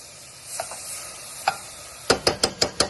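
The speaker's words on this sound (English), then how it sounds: "I added a little bit of butter to my pan, and I have this chopped up garlic." Chopped garlic goes into melted butter in a pan, starting as a faint low sizzle and turning into a quick run of five or six sharp, crisp crackles and taps near the end.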